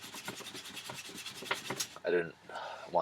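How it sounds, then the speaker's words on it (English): Steel wool rasps back and forth across a rusty motorcycle exhaust in quick, rhythmic rubbing strokes, close and moderately loud, with a few louder scrapes near the end. "if you scrub harder too, it seems like it takes it off faster"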